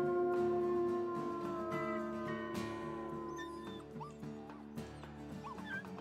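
Wolves in the WolfQuest video game howl together, several long wavering tonal calls overlapping in a chorus with higher yips and whimpers rising near the end, fairly close over a quiet night background.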